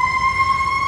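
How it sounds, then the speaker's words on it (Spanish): An emergency vehicle siren sounds in the street as a loud, steady high tone with strong harmonics, holding through the whole brief moment over low rumble. "Otra vez la sirena, como siempre."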